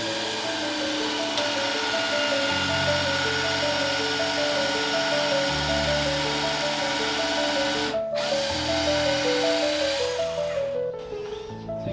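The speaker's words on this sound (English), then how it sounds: "so I'm going to pre-drill." Power drill bores a pilot hole into old, hard Rimu wood, a loud continuous whir that dips and surges as the bit bites, with a brief break partway through.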